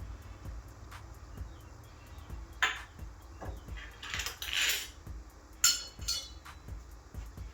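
Sharp kitchen knives are shifted around by a sink, giving a few scattered metallic clinks and clatters over a quiet kitchen background, with soft knocks in between.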